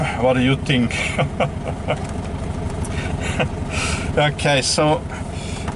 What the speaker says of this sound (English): this was the second test drive of my turquoise 61 Australian made Volkswagen Beetle